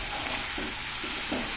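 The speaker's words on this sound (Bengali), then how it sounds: "তো আমি নুন হলুদ দিয়ে আমটা ভেজে নিলাম।" Chopped mango pieces frying in oil with salt and turmeric, a continuous close sizzle with soft periodic stirring scrapes, no voices.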